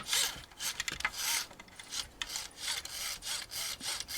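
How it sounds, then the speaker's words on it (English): Roborock robot vacuum electrical contacts get rubbed clean, a close, quiet back-and-forth scraping with rhythmic strokes a few per second, rising and falling in brief bursts. "I'm just going to give all of these contacts a quick rub"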